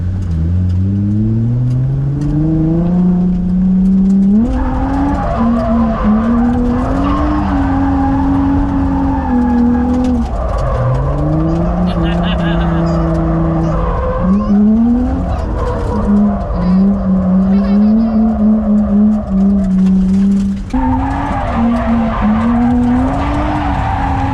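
A drifting car's engine revs hard and wavers up and down in pitch while tires squeal and skid, loud and close throughout with barely any letup.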